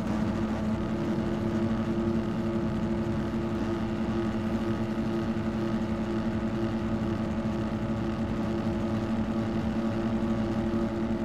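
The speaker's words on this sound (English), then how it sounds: "Or am I revving the shit out of my bike for no reason?" Motorcycle engine in a racing video game holding a steady, droning rev with constant pitch, continuous and moderately loud throughout with no talking.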